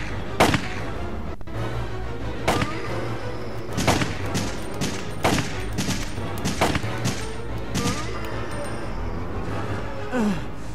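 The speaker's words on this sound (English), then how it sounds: "Why wasn't Brad's shots doing any good?" Gunfire in the video game Resident Evil 3, played in the Dolphin version: loud repeated shots with booming reverberant tails fire at irregular intervals over a dense, rumbling game background, with occasional faint vocal sounds.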